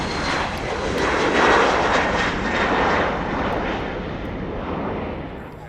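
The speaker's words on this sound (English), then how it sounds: "There we've got the Embraer 190, and that's KLM's Amsterdam to Bordeaux flight." KLM Embraer 190 jet at Schiphol Airport, a steady broadband engine roar that swells and then slowly fades as it passes at moderate distance.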